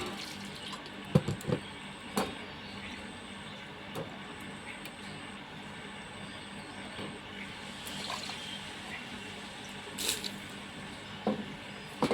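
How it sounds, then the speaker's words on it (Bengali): Chopped onions rinsed under a running kitchen tap, a faint, steady stream of water with soft, irregular splashes and clinks from the bowl, low and fairly distant throughout. "এখন এইগুলোকে ভালোভাবে ধুয়ে নেব"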